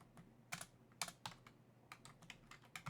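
Keys on a computer keyboard clack in quiet, irregular bursts of taps, close by and soft, with no voices.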